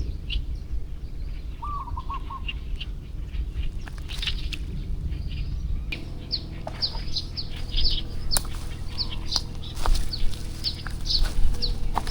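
Chickens cluck and chirp in a scatter of short calls, moderately near, over rustling outdoor ambience by a fishing spot under a rain tree, with no talking.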